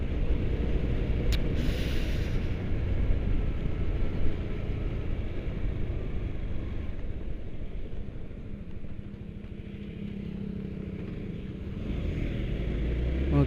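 A Honda CBR motorcycle riding and leaning into a turn, a continuous low engine rumble mixed with heavy wind buffeting, steady and close throughout with no talking.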